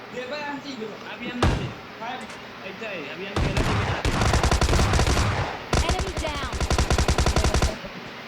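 Rapid automatic gunfire from a PUBG Mobile Lite match, a shotgun among the weapons, bursting in loud sustained volleys between quieter moments, with a player talking over the action.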